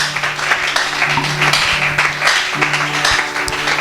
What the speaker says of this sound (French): Est-ce qu'il y a quelqu'un qui peut acclamer très fort pour la gloire du Seigneur?